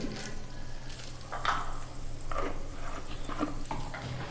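Chana dal and urad dal, with a few cashews, fry in a pan for coconut rice, giving a soft steady sizzle under occasional scraping stirs of a spoon against the pan, with no talking.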